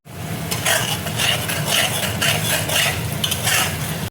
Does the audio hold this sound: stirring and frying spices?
yes